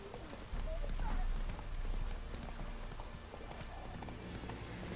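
Horse hooves while riding in The Witcher 3, a steady clip-clop of galloping over rainy ambience, fairly quiet and continuous.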